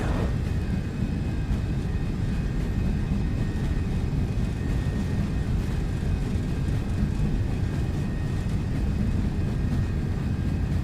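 MD-11F jet engines at takeoff thrust in the X-Plane 12 flight simulator, a steady, loud, broadband roar that holds constant and fills the whole stretch without a break, no voices over it.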